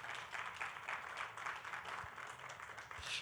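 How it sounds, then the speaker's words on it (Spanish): Church congregation applauding during a service, a quiet, fairly steady wash of clapping at a distance with no distinct voices. "Denle un aplauso al Señor."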